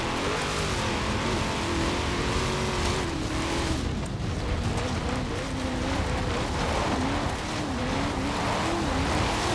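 A stock 2018 Chevrolet Camaro ZL1 in the racing game Forza Horizon 4 drives along tarmac, its engine a loud, steady drone whose pitch rises and falls gently over constant road and wind noise.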